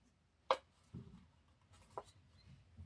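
A paper book page is folded at the corner by hand for a craft pocket, giving a sharp crisp crease at first, then softer rustles and a second crisp press, close and fairly quiet.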